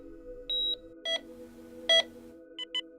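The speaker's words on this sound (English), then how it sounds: "There's a heart monitor." Heart-monitor beep effect from an in-game speaker in a vehicle-building video game, several short electronic beeps at irregular intervals over a steady low hum, clean and fairly quiet.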